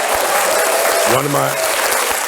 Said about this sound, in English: Clap that up, Nick.